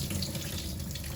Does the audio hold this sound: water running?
yes